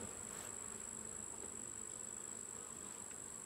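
Bees buzz around an opened hive in a field, a constant, faint, dense hum of many insects with no voices.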